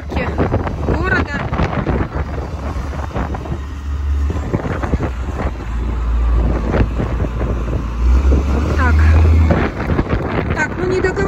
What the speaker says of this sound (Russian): Смотрите, как дует. Прям задувает.